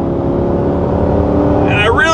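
A 2024 Corvette E-Ray Hybrid with all-wheel drive accelerates hard out of a corner, its engine droning loud and steady with rising tone, while a voice talks over it.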